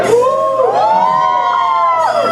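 An Onam stage audience hoots and cheers together, loud rising and falling whoops and shouted tones sustained over a couple of seconds, with a crowd roar beneath.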